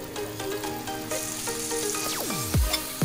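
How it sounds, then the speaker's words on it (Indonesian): Chayote, carrot, potato and green beans stir-frying in a pan at a village family Lebaran cookout, with a steady close sizzle and several sharp ringing scrapes and clinks of a utensil against the pan. "Nah, kita tumis ya sayurnya."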